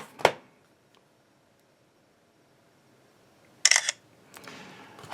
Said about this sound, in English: Camera shutter it's okay. It's not the fastest, but it still works.